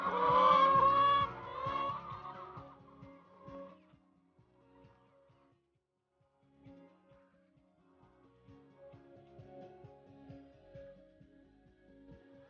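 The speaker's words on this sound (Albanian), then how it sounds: "mirë se erdhët në fermën e parë të pulave organike në Kosovë" Hens cluck at a close range on an organic egg farm in the mountains of Kosovo. A loud burst of clucking opens, then a few hens keep up quieter, intermittent calls.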